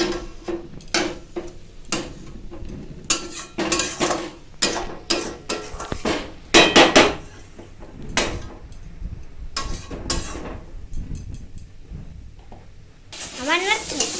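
A spoon scrapes and stirs a thick paste drying in a hot pan, a close, uneven series of gritty strokes over a soft sizzle that continues throughout.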